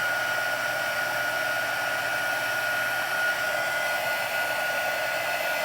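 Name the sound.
heat embossing tool melting Deco Foil powder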